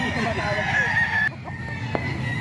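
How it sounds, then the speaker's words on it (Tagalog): A gamefowl bullstag rooster crows loudly nearby, a strained drawn-out call that cuts off abruptly, followed by a brief cluck and faint background voices. "Mga manok ni Bostoni. Bullstag na to mga ka-idol."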